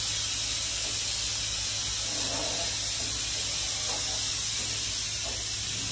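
Steady, loud hiss of a spray gun spraying water while being cleaned at a sink after glaze application, continuous without pause, close by, with no voices.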